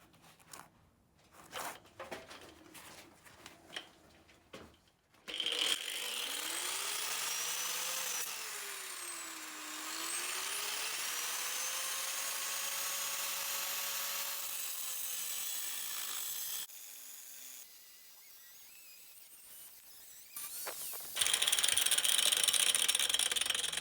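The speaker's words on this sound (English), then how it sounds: "you're going to slit in there with a disc. You're going to slit there, cut it off" An angle grinder's cutting disc slices through a seized sway bar link nut on a Jeep Patriot/Compass, a loud continuous whine rising and falling in pitch for about fifteen seconds after scattered clanks, then winding down.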